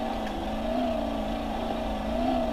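A simulated race car engine in BeamNG Drive on a hillclimb and downhill time-attack course drones loudly and steadily, its harmonic whine rising and falling slightly with throttle.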